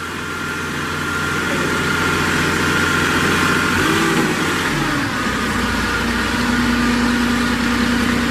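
A 2017 Moffett M8 55.3 truck-mounted forklift runs nearby with a loud, steady engine rumble, and a brief pitch shift partway through before it settles into an even idle.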